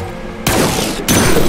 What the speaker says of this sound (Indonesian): Jadi kita tembak gitu.